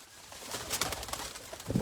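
Taddy pigeons coo in a brief, soft burst at close range, with the throaty calls rising toward the end.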